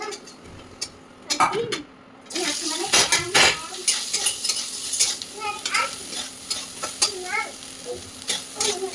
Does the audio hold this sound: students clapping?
no